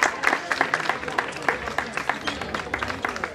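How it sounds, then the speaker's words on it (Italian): An audience claps for children at an outdoor fairy-tale festival in Rapone, Basilicata, a fairly dense, steady round of applause with scattered louder claps. "Un applauso ai bambini che hanno fatto le posate"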